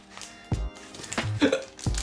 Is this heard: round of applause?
no